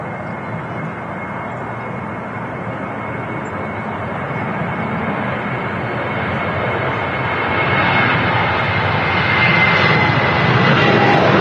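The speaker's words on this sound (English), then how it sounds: "Smooth takeoff there from KLM" KLM jet airliner taking off at Manchester Airport, a broad steady engine roar heard from a distance that slowly grows louder toward the end, with no talk.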